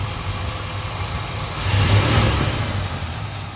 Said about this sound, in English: man, that engine sounds good.